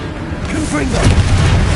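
A Confringo fire spell in Hogwarts Legacy bursts into a loud, rumbling blast that swells and rolls on for over a second, with a voice mixed in.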